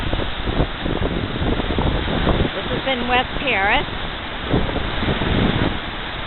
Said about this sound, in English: hearing of the water just rushing all down